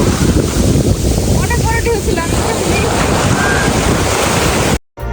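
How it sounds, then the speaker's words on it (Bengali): Large ocean waves surge and break at Phuket beach, a loud continuous wash of surf buffeted by wind noise, cutting out briefly just before the end. "দেখা যাচ্ছে বিশাল একটা ঢেউ আর এই ঢেউটা অনেক বড়"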